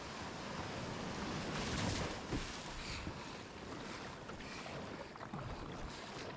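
A boat is paddled out on calm water with no wind or swell. Soft, steady water swishes and splashes sit close, over a broad, noisy wash with slight wind rumble on the microphone. No one speaks.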